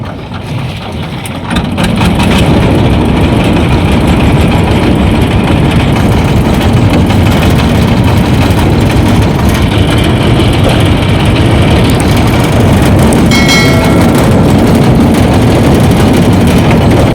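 A motor boat engine on the Padma river drones loud and steady, rising sharply at the start, then holding a heavy, close, continuous rumble.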